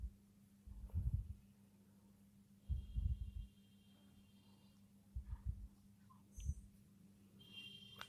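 Pulsator of an LG 6.2 kg fully automatic top-load washing machine (smart inverter) turning, heard as low rumbling surges in four separate bursts over a steady hum, fairly quiet and close.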